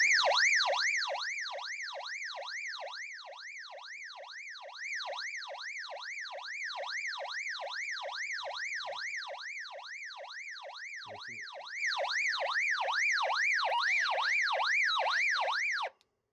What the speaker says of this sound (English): if you want to set an emergency alarm, that's how you do it. Just hold down the button.